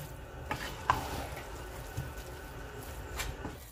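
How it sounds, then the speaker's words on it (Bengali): Meat and rice being stirred together gently in a pot for tehari, a few soft scraping strokes over a low steady cooking sizzle, close and fairly quiet. "তো আমি চালের সাথে খুবই হালকা হাতে মিক্স করে দিচ্ছি।"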